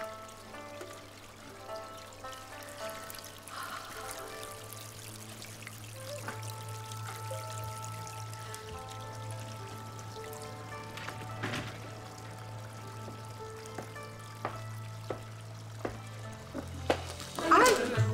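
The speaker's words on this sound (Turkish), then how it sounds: "Bunun sesi hep böyle mi? Şırıl şırıl." Small waterfall on a terrace trickling and pouring steadily with a low continuous hum beneath, fairly quiet throughout, with a louder splashy patch near the end.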